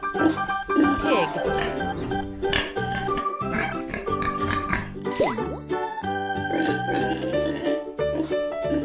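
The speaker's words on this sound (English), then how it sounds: "Pig." A pig oinks and grunts in a farm-animal learning sequence, heard amid bright jingling, tinkling music that stays loud throughout.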